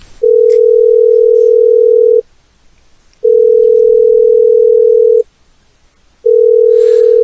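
A loud, steady electronic phone tone sounds three times, each about two seconds long with a one-second silence between.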